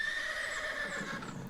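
A brown horse neighs in a long, close, clear whinny, used as a sound effect in an audiobook.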